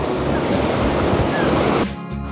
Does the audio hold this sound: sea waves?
yes